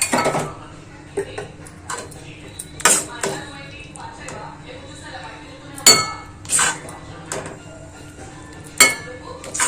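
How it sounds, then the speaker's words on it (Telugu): Steel bowls clink sharply as ginger pickle is moved into them, giving several bright metallic knocks and rattles spaced irregularly, close by, with a voice speaking now and then. "ఆ లోపల స్టీల్ గిన్నెలకు మార్చేస్తాను"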